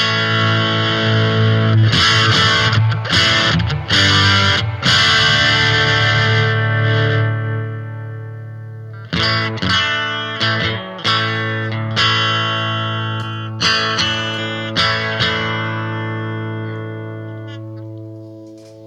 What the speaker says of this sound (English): You could take it into distortion.